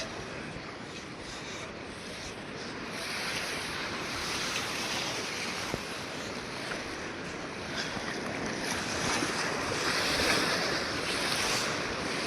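Sea waves roll onto the beach at Arichal Munai, Dhanushkodi, a continuous broad surf roar with strong wind buffeting the microphone that swells gradually and stays loud throughout.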